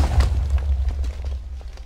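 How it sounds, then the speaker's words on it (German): A deep, rumbling explosion near a boat in Minecraft booms and rolls on with heavy low-end crackle, fading gradually over a couple of seconds. "Oh, da ist irgendwas beim Boot, was explodiert."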